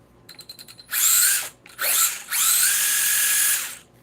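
A brushless-motor power tool gives a few quick clicks, then revs loudly in three high-pitched bursts with short gaps between them, spinning up and winding down each time.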